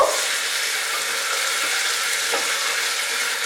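Vegetables for a vegetarian pulao frying in a pan over medium heat, with a steady, even sizzle and hiss that stays close and continuous throughout, no voices.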